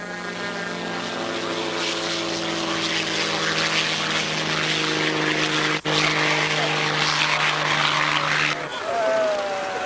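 A loud, sustained buzzing drone of a model airplane's propeller engine holds steady at close range, with voices faintly beneath, then briefly cuts and returns.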